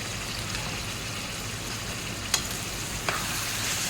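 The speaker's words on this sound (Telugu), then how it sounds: "అన్నీ వేసి బాగా ఫ్రై చేసుకోవాలి అంతా బాగా మిక్స్ చేసుకోవాలి" Tomato paste and puree frying in a pan for spaghetti sauce, a steady sizzle with a couple of sharp spoon clicks against the pan as it is stirred, close and alone without talk.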